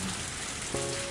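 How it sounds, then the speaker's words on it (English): Steady rain pours down in a scene from the video game Higurashi When They Cry, a loud, dense, even hiss throughout with a brief low tone partway through. "some of us are standing out here in the rain"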